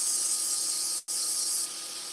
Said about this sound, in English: I'm working on this end of the blank, but I'm still moving the sandpaper, so I'm not staying in one place.